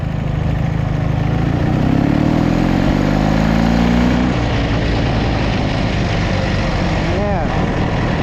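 A Dnepr MT11 cross motorcycle being ridden toward a field after a crash, its engine droning loud and steady throughout with a rising then falling pitch.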